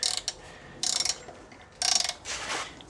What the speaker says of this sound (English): Go ahead and tighten the wrench.